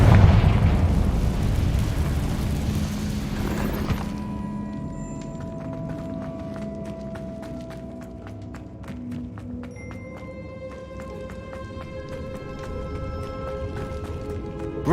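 A Confringo blasting spell bursts in Hogwarts Legacy inside a cave, a loud rumbling blast at the start that decays over a few seconds into a lingering, ringing magical hum and faint shimmer.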